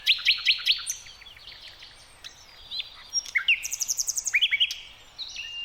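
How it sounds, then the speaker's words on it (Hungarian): A common nightingale sings in spring, repeated high chirps and rapid trilling phrases at moderate distance, loud bursts separated by short pauses, with no voices. "Ez a fülemüle most büszkén hirdeti a tavaszt"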